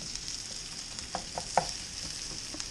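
Onions sautéing in a pan, a soft continuous sizzle with a few sharper ticks and pops from stirring, fairly faint and steady with no talk.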